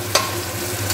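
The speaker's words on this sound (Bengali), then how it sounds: "দেখো আলু ভাজা করে দিচ্ছি একদমই অল্প" A small portion of potatoes fries in a pan with a steady, close sizzle, broken by a couple of brief stirring scrapes, with no voices.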